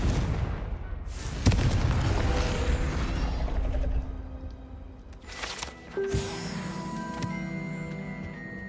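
A Confringo blasting spell explodes in Hogwarts Legacy, a booming burst followed by rumbling, crackling debris and clanking mechanisms, then a sharp ringing chime; loud and close with no talking.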